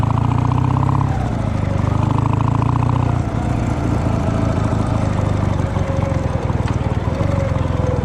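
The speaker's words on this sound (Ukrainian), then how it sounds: "Бо звук вихлопа дуже громкий." A loud motorcycle engine rumbles close by, dropping in pitch after a rev, then settling into a steady, throbbing exhaust note while riding.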